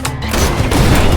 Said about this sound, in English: Explosion hit.